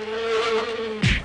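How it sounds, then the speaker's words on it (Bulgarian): A single fly buzzes steadily close by with a thin droning hum for about a second, then a short louder rustle or bump cuts in at the end; no talking. "Ей го, още една испанска муха."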